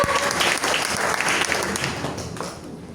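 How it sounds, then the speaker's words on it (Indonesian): A congregation applauds at a women's fellowship Christmas service in a church, with dense, sustained clapping from many hands that tapers off slightly toward the end. "Mana tepuk tangannya Bapak Ibu semua?"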